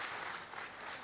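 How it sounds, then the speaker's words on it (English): Brief burst of dense, steady audience applause at a university international partners' week celebration, filling the whole moment as a continuous wash of many hands clapping. "A round of applause for them"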